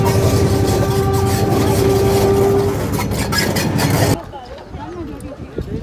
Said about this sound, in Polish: Właśnie jedzie pociąg.